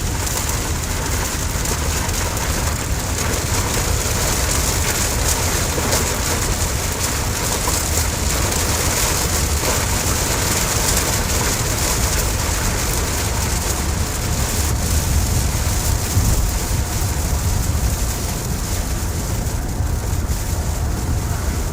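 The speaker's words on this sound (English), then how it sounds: "we're going over a little heavy rain right now" Heavy rain pounds a storm-chasing vehicle during a tornado outbreak chase in Iowa, a dense, loud, steady roar lasting throughout without a break.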